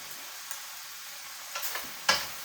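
Chicken fried rice sizzles in a wok over a steady hiss, broken by a few scraping stirs and a sharper clatter near the end.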